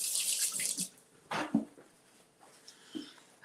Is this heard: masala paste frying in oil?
no